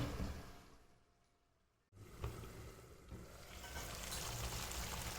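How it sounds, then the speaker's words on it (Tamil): Crab masala bubbles and sizzles softly in a pan, the simmer fading briefly, then returning stronger and steady. "நண்டு நல்லா கொதிக்க ஆரம்பிச்சிருச்சு"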